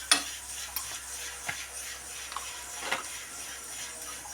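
Carrots go into a hot pan and are stirred, giving a soft steady sizzle with a few faint scrapes and taps of a utensil against the pan, with nobody speaking.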